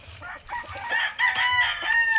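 A rooster crows loudly nearby at a gamefowl farm, its rising call stretching over a couple of seconds, with faint background farm noise.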